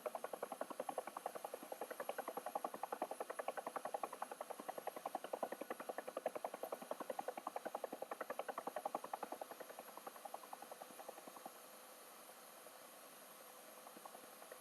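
Simulated UH-1H Huey helicopter in a flight game, its engine whine and rotor chop pulsing steadily and fairly loud, then easing lower and quieter as the throttle is cut near the end.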